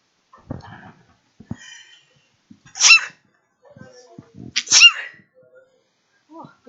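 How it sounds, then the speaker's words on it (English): Two high-pitched, squeaky sneezes, each a sharp quick burst, come close by and about two seconds apart, with soft breaths, small vocal sounds and faint handling noises in between. "My high-pitched squeaky sneezes."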